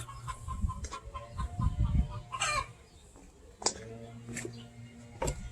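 A hen clucks in short repeated bursts after laying an egg, against a low, noisy farmyard background, with a few sharper calls standing out.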